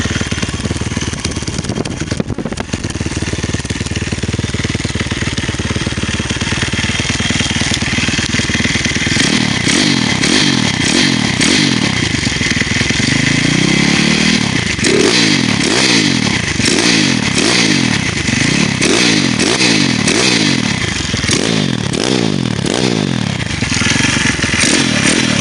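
A 150cc dirt bike engine starts and then revs repeatedly in sharp rising and falling bursts, loud and close, with mechanical clatter between the revs and no talking.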